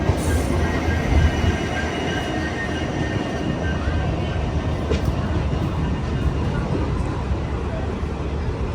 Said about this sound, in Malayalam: ഇത് നമ്മൾ വന്ന ഡെമു